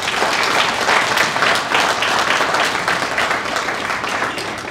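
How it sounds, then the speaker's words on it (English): An audience at a community recognition event breaks into sustained applause, a thick, even roar of many hands clapping close by that slowly eases toward the end, with little talking. "give yourselves a round of applause, for you all deserve to be recognized tonight"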